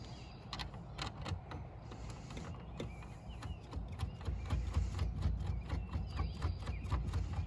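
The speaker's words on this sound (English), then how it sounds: "tighten them up with our 8" Tightening the rear tail light screws on a Nissan Altima with an 8 mm tool: quiet, close-up ratcheting clicks and creaks repeating in a steady rhythm, with no talking.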